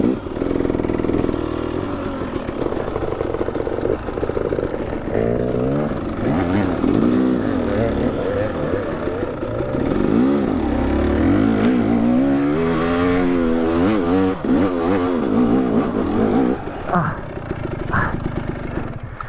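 A dirt bike engine revs and bogs hard in bursts while climbing a steep cliff trail, loud and close throughout, with people talking and shouting over the noise.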